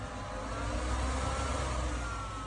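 Blower motor fan on the exhaust of a portable urine-separating dry toilet, running at low speed with a steady, close, continuous hum and airy whir, no talking.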